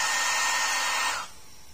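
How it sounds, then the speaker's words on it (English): A hair dryer blows steadily in the Talking Ginger video game, a loud airy whoosh that cuts off suddenly near the end. "Hair dryer, hair dryer."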